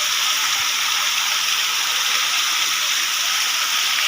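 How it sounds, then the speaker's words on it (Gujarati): Heavy rain pours down in a dense, steady hiss, loud and unbroken throughout, with no other sounds standing out. "હવે બહુ વરસાદ વધી રહ્યો છે."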